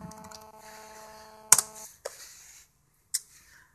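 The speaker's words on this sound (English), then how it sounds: "And I'm going to type my password in." A computer keyboard is tapped while a password is entered, giving a few sharp, close clicks spread over a few seconds, with a short faint tone at the start and quiet gaps between keystrokes.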